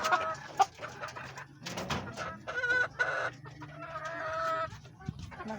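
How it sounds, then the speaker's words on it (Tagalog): Chickens cluck repeatedly at close range, with a rooster-like call breaking in amid scattered farmyard noise. "Ang manok guys."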